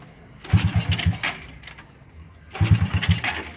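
A motorcycle engine is cranked with the electric starter in two separate bursts, each a loud, rapid chugging turnover that fails to catch, with a quiet pause between the attempts.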